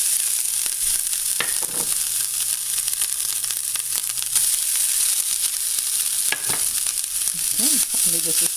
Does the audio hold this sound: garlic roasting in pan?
yes